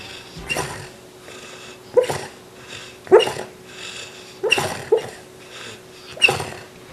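A Labrador dog barks in about five loud, close bursts spaced a second or so apart, each short and gruff with faint whimpering noises between.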